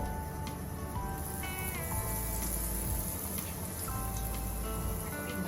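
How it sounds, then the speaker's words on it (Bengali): Gram-flour-battered eggplant fritters deep-fry in hot oil in a wok, giving a dense, even, rain-like crackle that holds steady throughout and is heard close with no voices. "কড়াইয়ের জায়গা আছে আমি আর একটি বেগুনি ছেড়ে দেবো"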